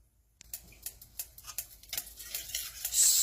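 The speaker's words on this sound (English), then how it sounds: "Stir, stir, stir." Milk pudding stirred in a pan with a spoon, a run of quick, light scraping and clicking strokes at a steady rhythm, close and fairly quiet, with a brief hiss toward the end.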